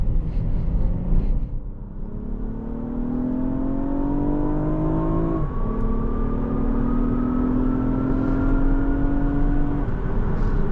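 A 2019 Lexus ES 350 F Sport accelerates hard from inside the cabin, its engine note climbing steadily through the gears with a brief dip at a shift, a smooth continuous rising whine over road rumble.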